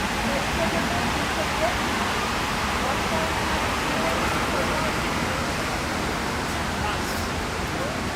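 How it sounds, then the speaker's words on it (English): Constant rushing water from the North Pool fountain at the 9/11 Memorial, a loud, unbroken wash of falling water filling the space with no break. "You can hear the water fountain sound."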